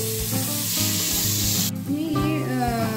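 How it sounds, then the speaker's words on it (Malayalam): Tomatoes with masala sizzle in a pan for soya chunk biryani, a steady close frying hiss with light stirring, heard beneath prominent background music. "തക്കാളി ഇട്ട് നന്നായിട്ടൊന്ന് വഴറ്റാം."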